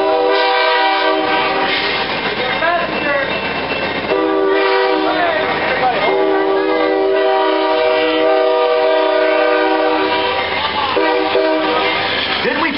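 An Amtrak train passes close by, its loud multi-tone horn blaring almost continuously over rumbling wheels and clacking railcars, with faint voices underneath.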